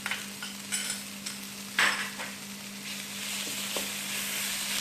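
Tomato paste goes into okra frying for masala bhindi, a soft continuous sizzle with a spoon tapping and scraping the pan now and then, a low steady hum underneath.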